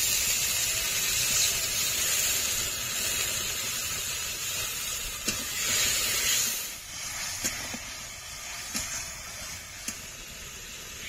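Spice-rinsing water poured into a hot pan of ground ginger, cumin and dried chilli paste for rui fish curry, giving a loud continuous sizzling hiss with a few sharp pops and crackles.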